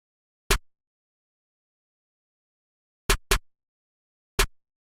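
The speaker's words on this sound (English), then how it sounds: "And a snare." Four dry snare hits from a pluggnb beat, isolated with silence between them: one early, a quick pair about two and a half seconds later, then a final hit near the end.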